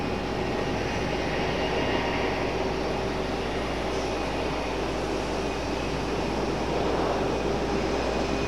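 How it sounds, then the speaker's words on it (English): A United airliner departs Raleigh-Durham International Airport at night. Its jet engines make a steady, loud, broadband roar that stays constant and unbroken the whole time, heard from a distance with no voices. "We do have a United departure."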